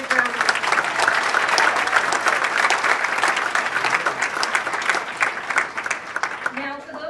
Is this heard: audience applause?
yes